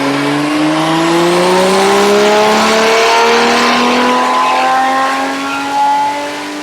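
2JZ drift car with a Zona rotor turbo at boost level 3, engine screaming loud and close as it pulls hard through a long continuous rev climb, with faint tire noise beneath.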